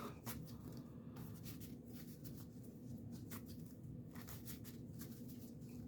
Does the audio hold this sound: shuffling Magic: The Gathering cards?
yes